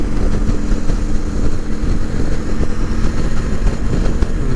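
A Suzuki Intruder motorcycle rides along, its engine producing a steady low rumble with wind noise, loud and continuous throughout with small fluctuations.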